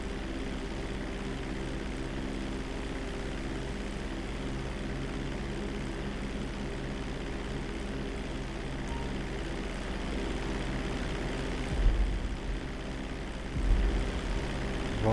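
A small propeller airplane comes in to land in GTA 5, its engine a steady low drone held close and even throughout, with a couple of heavier thuds near the end.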